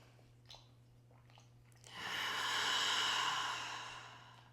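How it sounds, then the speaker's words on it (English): A single long, deep inhale through the nose during a gentle yoga session for the neck and shoulders: a swelling breathy rush that builds and then slowly fades, heard close over a quiet room with a low steady hum. "I'll take another deep breath in through the nose."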